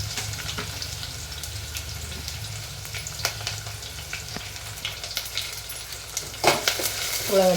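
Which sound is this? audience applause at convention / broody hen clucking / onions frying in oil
onions frying in oil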